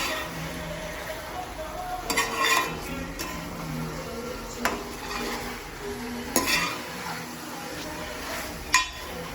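Chicken being stirred in a pan with a utensil, producing scraping and clinking against the metal over a soft sizzle, with several sharper strikes spread through the stretch.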